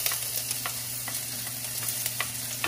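Garlic, onion and bay leaf sautéing in a pan for tuna belly adobo in coconut milk, a steady sizzle with light stirring scrapes and small crackles throughout, no talking.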